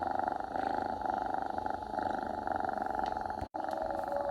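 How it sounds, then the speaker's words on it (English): A jaguar purrs in a steady, continuous rumbling rhythm, close and fairly loud, with a brief cutout near the end. "follow the purr."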